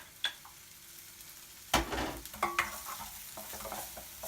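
Finely chopped onion in a teaspoon of extra virgin olive oil sizzles softly in a pan, with a few sharp stirring scrapes and clinks over a quiet, continuous fry.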